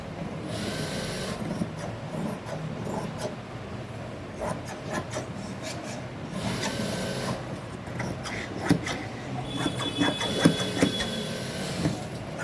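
Scissors cutting through cloth while tailoring a garment front piece, a steady rasping, rubbing crunch of blades through fabric that continues close and fairly loud throughout, with small clicks and shifts of the material.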